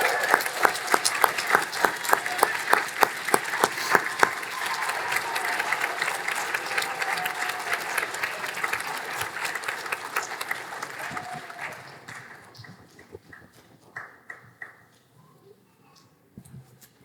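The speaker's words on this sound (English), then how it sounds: "celebrate with the grads with the final round of applause for them" Audience at a fall graduation ceremony gives a final round of applause for the graduates, dense clapping from a large crowd that fades out over the last few seconds into scattered claps.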